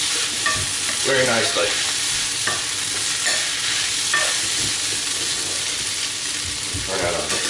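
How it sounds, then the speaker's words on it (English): Potatoes frying in a pan for breakfast, a steady loud sizzle with scraping stirring strokes throughout and a brief voice speaking over it. "And the potatoes are cooking"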